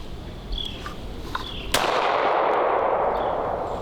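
A single Makarov pistol shot at an outdoor range: one sharp, loud crack followed by a sustained rumbling echo that lingers to the end, with faint clicks before it.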